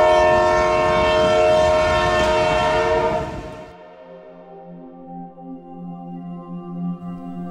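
A train passes in an audio drama: a loud, dense rumble with a sustained horn-like drone fills the first three seconds, then drops abruptly to a quieter, steady hum and low clatter that carries on to the end.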